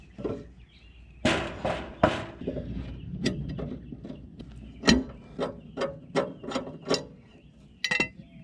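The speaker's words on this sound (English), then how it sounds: "go ahead and take your socket and put it on a ratchet" A socket on a ratchet works loose a blade bolt on a zero-turn riding mower, giving a series of close, sharp clicking ratchet strokes in uneven bursts with short pauses between them.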